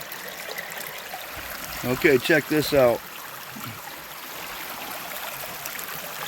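Water runs steadily through a gold prospecting sluice box at proper flow and height, a continuous trickling stream heard before and after a brief stretch of close talk.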